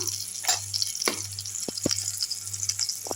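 Oil sizzles steadily in a pan as turmeric goes in for egg podimas with drumstick flowers, broken by a few sharp spatula scrapes and taps close by; nobody speaks.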